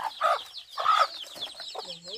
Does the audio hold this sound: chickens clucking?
yes